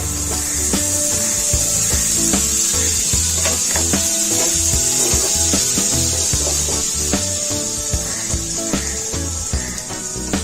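Butter is added to a pan and spread for a grilled vegetable sandwich, giving continuous rhythmic scraping and rubbing strokes over a steady bright hiss, close and fairly loud, with no talking.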